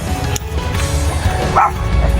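Small dogs bark in short, sharp yaps at close range, a couple of distinct barks standing out over a noisy, scuffling background.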